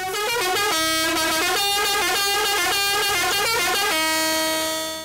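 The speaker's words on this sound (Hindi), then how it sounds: "चौधरी बिल्ला हॉर्न से, जो पिछले 12 साल से ट्रकों के, बसों के, गाड़ियों के, ट्रेनों के हॉर्न बना रहे हैं" A loud truck and bus pressure horn blares a tune, its bright, brassy notes stepping through a melody before settling on one long sustained tone.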